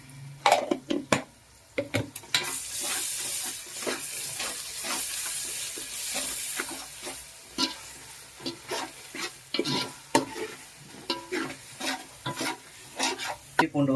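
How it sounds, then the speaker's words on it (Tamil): Garlic frying in a pan for white basmati pulao: a steady sizzle runs under repeated clattering scrapes of a spoon stirring, close and moderately loud. "பூண்டு வந்து நல்லா குக் ஆகிடுச்சு"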